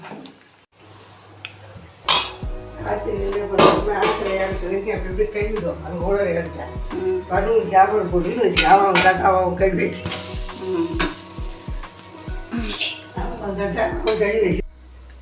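Metal pots and utensils clink and clatter repeatedly while tamarind curry boils, with a person talking over the kitchen noise.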